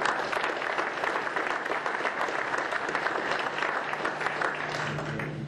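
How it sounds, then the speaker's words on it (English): An audience at a county landfill meeting applauds the county commissioners, a sustained, even wash of many hands clapping at moderate distance, fairly faint, with no pause. "Give them a round of applause."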